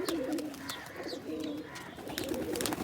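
Giribaz pigeons, including a green dobaj male with a white head, coo softly and repeatedly nearby over a low, busy background.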